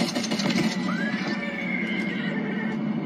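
A horse in the video game Warzone lets out a clear, rising whinny that trails off over about two seconds, heard against a steady background of game ambience with no talking.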